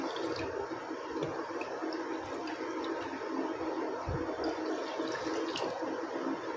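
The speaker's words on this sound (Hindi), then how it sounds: "पैन में 2 बाउल पानी देदेवी।" Water from two bowls pours into a cooking pan in a home kitchen, a steady splashing, gurgling rush that runs continuously at moderate level, with no talking.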